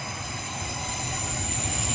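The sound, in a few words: train passing by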